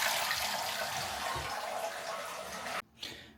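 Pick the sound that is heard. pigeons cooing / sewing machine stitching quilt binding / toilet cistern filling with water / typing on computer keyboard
toilet cistern filling with water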